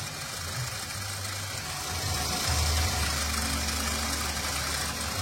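Suzuki Karimun car engine idling steadily with the radiator fan still off, a low continuous mechanical hum heard close up under a broad hiss, with no talking.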